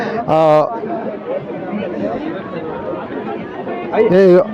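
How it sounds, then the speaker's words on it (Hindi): A large crowd gathered at Kharsawan, Jharkhand, on January 1, its continuous hubbub of many voices filling the scene, with a nearby person speaking briefly at the start and again near the end. "आज अपार भीड़ समूह जो है यहाँ एकत्रित हुए हैं"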